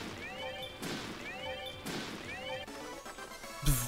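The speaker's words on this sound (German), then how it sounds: "das sind nur Bomben. Explodiert!" Bombs go off in the video game Miitopia as a few quiet, crashing blasts spaced about a second apart, with a sharp final thump near the end.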